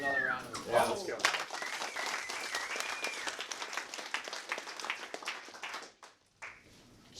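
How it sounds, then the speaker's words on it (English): Office team clapping and cheering together for a good week of appointments, a fairly close burst of mixed applause with voices talking over it, fading out near the end. "I think that deserves another round of applause."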